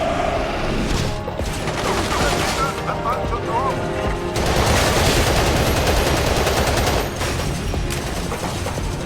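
Dense, loud gunfire from Battlefield 2: Modern Combat rattles on throughout, with rapid automatic bursts and occasional heavier booms in a continuous combat barrage.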